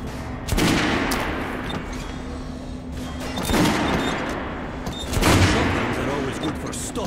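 Kalashnikov rifle bursts in the Metro Last Light video game, several loud close volleys at about one, three and a half and five seconds over a steady ambient hum.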